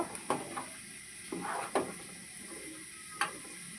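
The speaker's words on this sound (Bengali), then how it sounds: "এইভাবে নেড়ে ছেড়ে আরও পাঁচ মিনিট আমি এটাকে নেড়ে ছেড়ে নেব" A spoon stirs thick chana dal and semolina halwa cooking in milk in a pan, giving a few scraping strokes over a soft, steady sizzle.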